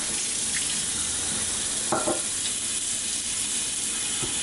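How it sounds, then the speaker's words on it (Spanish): Water runs steadily from a kitchen tap while a pot is filled for cooking tomatillos, a continuous close hiss with a couple of soft knocks partway through. "poner el agua para cocer tomatillos"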